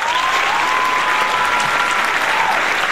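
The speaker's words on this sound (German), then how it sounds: "Applaus!" A studio show audience applauds with continuous, even clapping from a crowd, sustained at a steady level throughout with no pauses.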